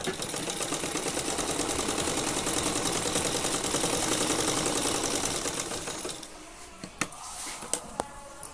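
A sewing machine stitches a patiala salwar in a steady, rapid mechanical whir for about six seconds, then stops, followed by a few sharp clicks and handling noises.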